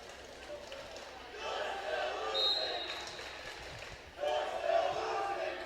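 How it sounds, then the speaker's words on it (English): A high school student section chants at a girls varsity volleyball game between Lakeland and Mosinee, a faint, rising and falling crowd roar heard in the distance, with commentators talking over it. "Lakeland student section is chanting, "We can't hear you.""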